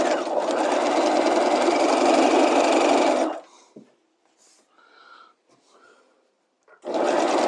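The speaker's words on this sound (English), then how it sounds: "I'm stay stitching my neckline and armholes, and I'm doing it at the exact seam allowance" A sewing machine stay stitching a neckline and armholes at a 1/2 inch seam allowance runs in a steady, close whirring burst, stops for a few seconds of quiet handling noises, then starts again.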